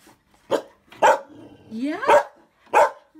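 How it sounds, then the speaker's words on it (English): A dog growling and barking at a small toy tiger indoors, several sharp close barks spaced out over a low rising growl and whine between them. "What are you growling at?"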